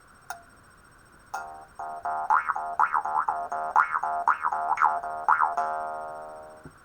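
Jaw harp with the lips sealed to project the sound twangs in a steady drone, its pitch bending in rhythmic wah-like sweeps, after two sharp plucks at the start; close, clear, and alone.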